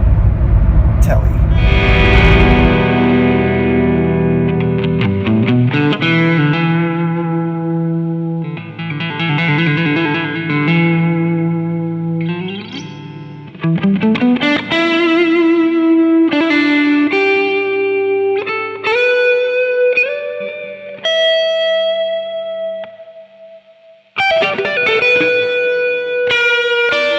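A blonde Telecaster electric guitar in open G tuning plays riffs, with distorted chords giving way to sliding, bending single-note lines, loud and close with a few brief pauses.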